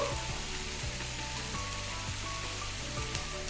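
Ridge gourd pieces being mixed in a hot pan, a constant fine sizzle with a few faint scraping strokes, close and without talk.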